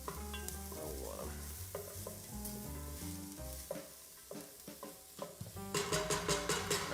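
Onions cook in a pan for chicken noodle soup, giving a quiet sizzle broken by scraping stirs, with steady tonal sounds running underneath.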